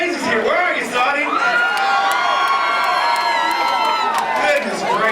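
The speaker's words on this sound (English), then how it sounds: "Goodness gracious, you brought the crowd and the excitement tonight." A fight crowd cheers and whoops loudly at a live event, with shrill shouts and sustained roaring voices filling the space continuously; a voice can be heard amid the noise.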